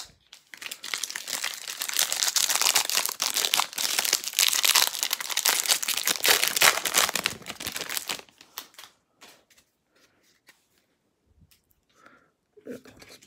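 Bowman baseball card pack wrappers from a 2019 Bowman Draft jumbo box being torn open: loud, continuous close crinkling and ripping for about eight seconds, then quiet with faint handling clicks.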